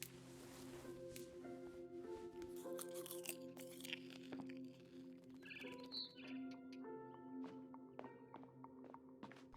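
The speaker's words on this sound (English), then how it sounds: "Then I heard chirping outside my window. It was a barn swallow going back to her nest." A barn swallow in What Remains of Edith Finch chirps outside a window on its way back to its nest, giving short, bright calls over a soft, layered game ambience with a few crunchy thuds.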